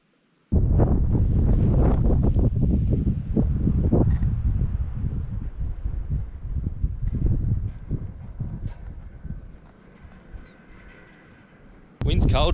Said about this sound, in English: Wind's cold today. I think it's sou'wester, which is mostly the coldest wind.